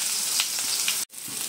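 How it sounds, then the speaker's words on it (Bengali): Garlic and chopped onion sizzle steadily in hot oil for a Bangladeshi masoor dal with drumsticks, a dense close crackle with a brief silent gap near the end before the frying resumes. "রসুনটা যখন একটু হালকা ভাজা হবে তখন এর মধ্যে দিয়ে দিচ্ছি পেঁয়াজ কুচি"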